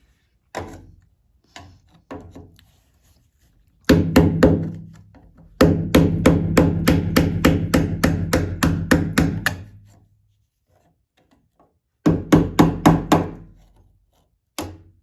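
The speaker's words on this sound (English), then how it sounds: "Let me get me a hammer." Hammer blows ring out against a car's fuel pump during removal from the tank of a vehicle sitting unused for over fifteen years, starting as scattered single strikes, then a long rapid run of sharp metallic hits, pauses and another short burst.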